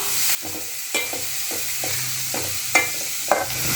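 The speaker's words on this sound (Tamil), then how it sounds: "நல்லா கோல்டன் ஃப்ரை ஆகிற வரைக்கும் வதக்கி விட்டுட்டே இருங்க கேஸை சிம்மில் வச்சுட்டு வதக்குங்க இல்லைனா வெங்காயம் கறிக்கிடும்" Onions sautéing in a pan over low gas heat until golden, with a soft continuous sizzle broken by several sharp scraping stirs of a spoon against the pan.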